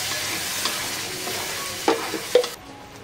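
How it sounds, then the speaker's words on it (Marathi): Masala paste sizzling and being stirred in a hot pan with oil, a steady close frying hiss broken by a few soft scrapes and clinks near the end, with no talking. "याच्यामध्ये इथे मसाला छान परतून घेऊया."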